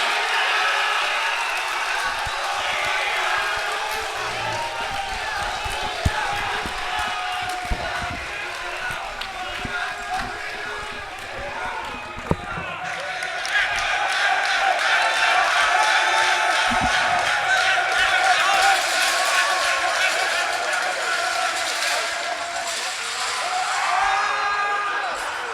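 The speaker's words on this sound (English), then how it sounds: "The crowd just goes absolutely wild for Okinamo" A LAN tournament audience at a COE 2022 final cheers wildly for the winner, a sustained roar of shouting and applause that builds louder in the second half, with a voice talking over it.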